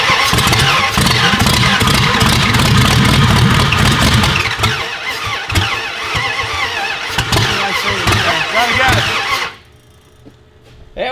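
A turbocharged drag car's engine cranks loudly and roughly for about nine seconds as it tries to fire, with a dense, uneven churning and rattling. It then cuts off abruptly to near silence.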